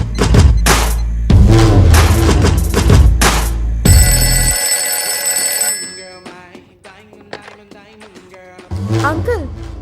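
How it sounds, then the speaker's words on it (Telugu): A telephone bell rings loudly in one sustained burst during a Telugu film scene, following loud music and voices and giving way to quieter talk. "daddy, phone ring daddy"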